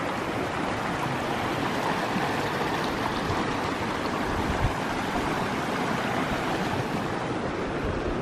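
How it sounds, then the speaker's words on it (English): Ice-cold mountain snowmelt rushes in a stream in winter, giving a steady, loud, broadband rushing and splashing that stays constant throughout with no voices. "Ice cold water coming down from the mountains."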